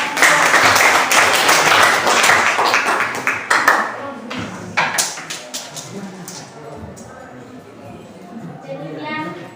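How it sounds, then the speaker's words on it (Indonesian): Classmates clap for a presenting group during a classroom discussion session, brisk applause that thins into scattered individual claps after a few seconds, followed by quieter voices talking. "Tepuk tangan untuk kelompok."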